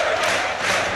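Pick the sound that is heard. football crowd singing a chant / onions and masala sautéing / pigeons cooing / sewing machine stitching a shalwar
football crowd singing a chant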